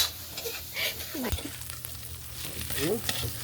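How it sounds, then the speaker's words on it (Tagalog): Pork binaguongan frying in a pan while being stirred, giving a steady close sizzle with a few brief scraping clinks of the utensil and faint voices in the background. "at haluin po natin"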